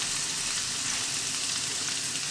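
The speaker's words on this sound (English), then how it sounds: "Now in goes our vegetables. I'm going to put the green beans in first." Green beans tossed into a hot pan for a Dall sheep chow mein, frying in a dense, steady hiss that stays loud and even throughout, close by with no speech.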